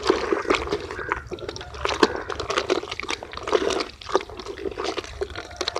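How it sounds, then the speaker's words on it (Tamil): Cowpea flour and jaggery sugar stirred into liquid, making sloshing, splashing water sounds that churn irregularly and fairly loud, close by, with no speech. "இப்போ தட்டைப்பயிர் மாவு சர்க்கரை ரெண்டையும் வந்து நல்லா கலக்கிறோம்."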